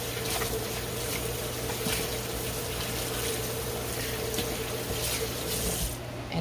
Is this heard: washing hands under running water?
yes